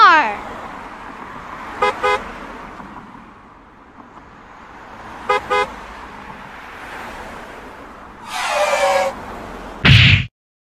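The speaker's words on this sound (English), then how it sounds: "Car." A car engine hums along with two pairs of quick horn toots, then a longer honk, ending in a short sharp knock.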